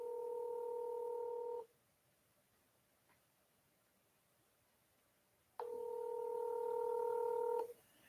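Two bursts of telephone dialing tones, each lasting about a second and a half, separated by a few seconds of near silence with a faint tick, on a call that goes unanswered.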